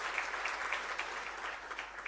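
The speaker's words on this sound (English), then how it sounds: "Let us give her a round of applause." A lecture audience gives a steady, continuous round of applause, a dense patter of many hands at moderate distance with no break and no talk over it.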